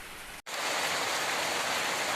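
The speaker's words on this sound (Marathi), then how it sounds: "हे बघा पाऊस पडतोय बाहेर" Heavy monsoon rain pours down outside, giving a dense, constant roaring hiss. A momentary dropout near the start is followed by a steady downpour, with no one speaking.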